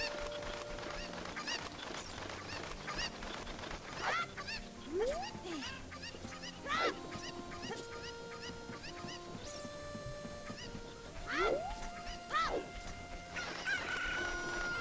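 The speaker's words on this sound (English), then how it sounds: "These were some really bad chickens." Cartoonish game chickens from Ocarina of Time cluck and squawk repeatedly with rising honking calls, layered over busy in-game music and effects, with no talking.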